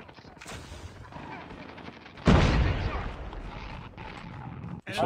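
Bursts of video game gunfire from a Shorty shotgun in Call of Duty Mobile, with a loud, booming blast midway, layered over background game noise.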